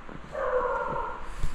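A dog gives a short whining, yipping call indoors in a home with a newborn baby, a single drawn-out vocalization at moderate distance with no talk over it.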